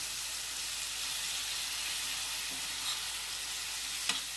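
Gyro meat fries in a pan with an even, hissing sizzle that runs throughout. A brief clunk comes near the end, close and fairly quiet, with no one talking.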